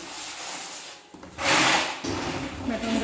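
A brush dipped in cleaner scrubs a dirty plastic tub with rough, close rubbing strokes. The strokes come in uneven bursts and are loudest near the middle, with no one speaking over them.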